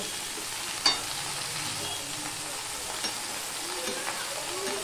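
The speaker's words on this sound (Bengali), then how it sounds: "সম্পূর্ণটা আমি ভালোভাবে মিশিয়ে নিয়ে ঢাকা দিয়ে দেবো।" Spinach and mixed vegetables sizzle and fry in a pan while being stirred, a steady crackling hiss punctuated by a sharp utensil clack near the start and a few softer scrapes and taps.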